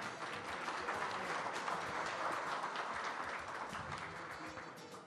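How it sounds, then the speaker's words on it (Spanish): An audience at a Chilean racecourse post-position draw applauds a doctor on her birthday, a sustained, fairly distant wash of clapping that holds steady and tapers slightly at the end. "le demos un aplauso a la doctora"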